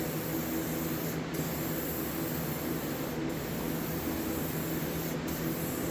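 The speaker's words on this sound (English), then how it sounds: "you're going to take it, you're going to do a real light coats" An aerosol can of U-Pol blend number 9 paint hisses out light coats in a continuous close spray, with brief pauses where the nozzle is released, and no voices.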